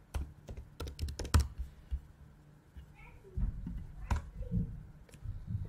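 Typing on a computer keyboard: a quick burst of close key clicks, then a pause and a few scattered keystrokes, under low background noise with brief muffled voice sounds.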